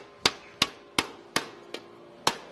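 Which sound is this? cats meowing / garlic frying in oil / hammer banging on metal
hammer banging on metal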